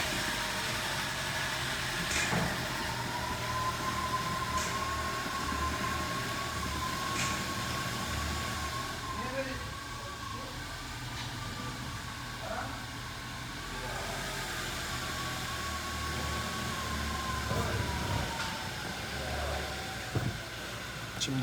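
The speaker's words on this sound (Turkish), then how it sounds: "Aracı çalıştırıyoruz." A car with a DSG gearbox and a loose pressure tube idles after being started, a steady close engine drone with a low rumble that holds evenly throughout, with no talk.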